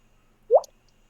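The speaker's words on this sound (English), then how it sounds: "dripping into small pools of water." A single close, clean water drop plopping into a small pool, a brief liquid plink against near silence.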